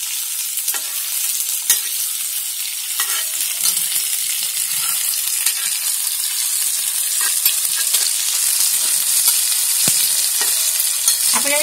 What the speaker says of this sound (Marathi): कांद्याची फ्राय करून घ्यायची आहे।